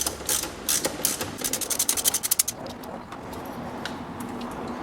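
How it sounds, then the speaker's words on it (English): A 10mm socket ratchet loosens a bolt on the transmission kickdown cable of a Pontiac Fiero with a 2.8 V6. A quick run of sharp, close ratcheting clicks is followed by quieter workshop background. "We're going to use a 10mm socket to remove this."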